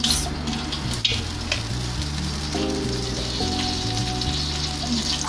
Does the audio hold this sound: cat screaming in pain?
no